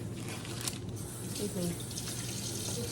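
Water runs steadily from a tap while caramel apples are being prepared, a soft continuous hiss throughout, faint and fairly close.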